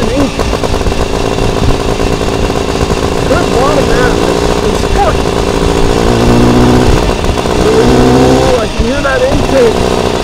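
The engine of a 1928 Scott Flying Squirrel, a 500cc two-stroke vertical twin motorcycle with no air cleaner, runs as a loud, continuous buzzing drone with slight shifts in pitch, and a voice talks over it.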